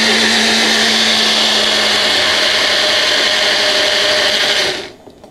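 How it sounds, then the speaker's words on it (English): A kitchen blender whirs steadily as it purées a sauce for a quick healthy meal, a loud continuous motor drone that runs for several seconds, then cuts off abruptly near the end, leaving near silence. "I'll let the blender do all the work for me"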